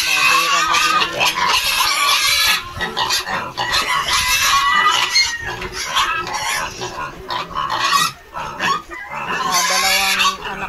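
A native wild boar sow with her piglets grunts and squeals at close range in loud, overlapping bursts, with a few short gaps between the calls.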